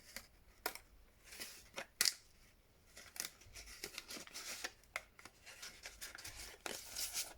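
Scissors cut through a paper tag in a craft studio, a series of close, crisp snips and slicing shears at an irregular rhythm, with soft rustling of paper between cuts.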